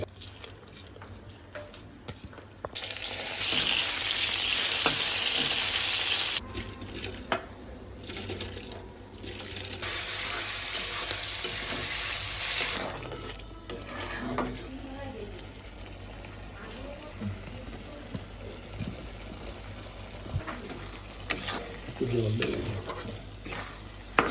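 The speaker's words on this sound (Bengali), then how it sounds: "এখন আমি একটু ঘি মিলাচ্ছি বেরেস্তা দিলাম" Prawn biryani ingredients fry and get stirred in hot ghee, with loud broadband sizzling bursts and steady stirring scrapes through the middle, fading to quieter sizzle and utensil clinks near the end; a person talks briefly.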